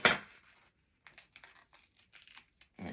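Scissors cut a taped page free from a no-sew junk journal: a sharp crinkle at the start, then a run of faint, brief snips and paper rustles, ending with a louder crinkling rasp, with no talk.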